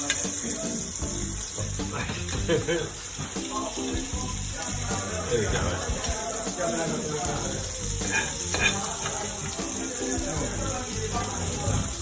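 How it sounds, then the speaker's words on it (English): Dry-aged Wagyu rib sizzles and spits in a hot pan with thyme as it is basted, steady close frying crackle with scraping and clinking, a background hum throughout and someone briefly speaking. "And we are just going to be basting this over time."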